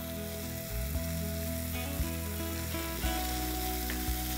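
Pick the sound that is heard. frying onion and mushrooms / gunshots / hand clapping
frying onion and mushrooms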